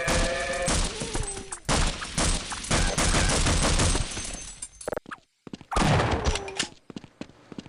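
Shotgun blasts and other gunfire from the video game Half-Life, loud percussive bursts in quick succession with a brief quiet gap before one more heavy blast and its tail.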